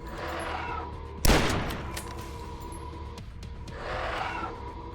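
A single loud, close gunshot in the shooter game Dusk cracks out over a steady ambient hum, with a short decaying tail and a softer whooshing swell afterward.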